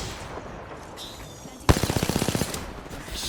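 Gunfire in the battle royale game Apex Legends: after a quiet stretch, a loud burst of rapid automatic fire fires about a dozen evenly spaced shots, then fades into softer game ambience.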